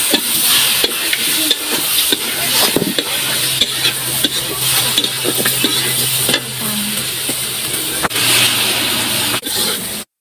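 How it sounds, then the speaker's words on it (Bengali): Chopped onions with turmeric and chili powder sizzle loudly in hot oil in a pot as they are stirred, with a constant frying hiss and repeated scraping strokes of the spoon, for a Bangladeshi shahi haleem. "মা ফুটন্ত তেলে পেঁয়াজ কুচি দিয়ে হলুদ গুঁড়া ও মরিচ গুঁড়া দিয়ে ভালোভাবে নেড়ে নিচ্ছে"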